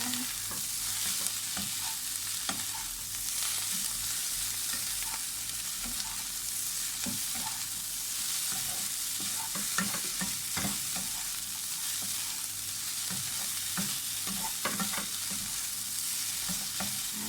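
Tom yum shrimp fried rice with spring onion and coriander is tossed in a hot pan, giving a loud, constant sizzle punctuated by frequent scraping and clanking spatula strokes, close up and without talk.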